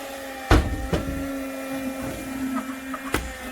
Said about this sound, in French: Ça fait un petit bruit d'aspirateur.